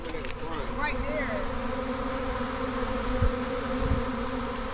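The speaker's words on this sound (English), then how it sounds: "This is what it's like when the swarm moves in." A swarm of bees moves in around a house, a steady, close, droning buzz from many insects holding at one level throughout, with a few faint knocks underneath.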